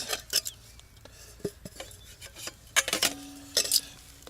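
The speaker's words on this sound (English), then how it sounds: "Let's get the frying pan out" A metal frying pan clanks and scrapes in a series of short, sharp knocks as it is taken out, with a brief ringing tone near the end, close by and with no talk.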